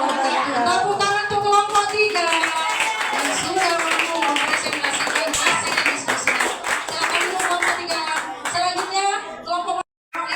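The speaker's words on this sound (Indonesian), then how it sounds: "Tepuk tangan untuk kelompok 3 yang sudah mampu mempresentasikan hasil diskusi" A classroom group claps for group 3, a dense burst of many hands clapping with children's voices chattering and shouting over it, loud and close, briefly cutting out near the end.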